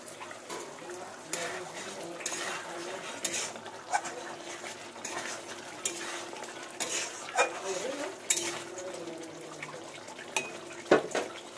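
Asafoetida and spices being stirred in hot oil with potatoes in a pan bring repeated scraping and clinking stirring strokes over a faint sizzle, with a sharp utensil knock near the end.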